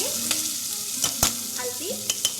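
Onions and tomatoes frying in a pan for a tandoori meal, with a steady close sizzle and a few sharp clicks of a spoon stirring against the pan, with no talking.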